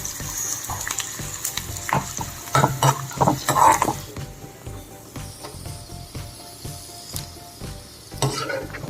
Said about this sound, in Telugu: ఇలా ఒక్కొక్క తాలింపు పెట్టుకుని ఇందులో వేసుకుంటూ ఉంటే మనకి ఇవన్నీ కూడా పర్ఫెక్ట్గా వేగుతాయి.